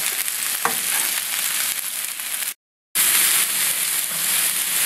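Broccoli stir-frying in a hot pan gives a loud, steady, bright sizzle with occasional stirring clatter, briefly interrupted by a short silent gap before resuming.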